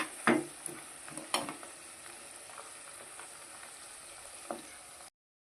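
Herbs simmer and fry in oil for a homemade hair-loss oil, a steady close sizzle with occasional stirring clinks and scrapes, no voices.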